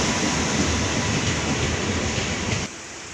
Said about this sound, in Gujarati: શિવર સ્ટેશનથી ઉપડી ગયેલી છે ગાડી